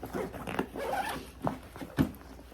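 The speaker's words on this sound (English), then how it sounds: "the zippers don't just stop at the sides. It actually goes all the way around" A gym bag's zipper is pulled open all the way around, several quick rasping zips in bursts, close and clear, with no talking.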